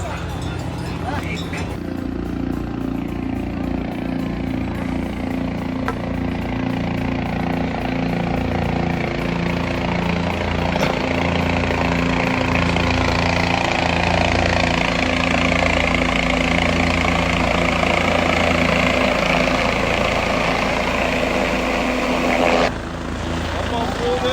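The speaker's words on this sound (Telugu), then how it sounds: "ఆ హెలికాప్టర్ వెళ్తుందంత" A helicopter's rotor drones steadily overhead on the Kedarnath pilgrimage route, a continuous rhythmic thrum that stays loud throughout, while people talk nearby.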